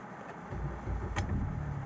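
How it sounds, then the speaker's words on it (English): A car engine cranks and catches partway through, settling into a steady low idle from a vehicle with an ABS warning fault; the sound is close and moderately loud, with no talk. "Now I've started the engine"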